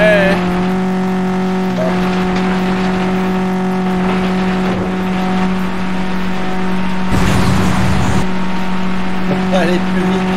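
A car engine in the racing game FlatOut 2 holds a loud, steady drone with a strong tonal hum, and a brief burst of noisier revving partway through, while someone talks over it.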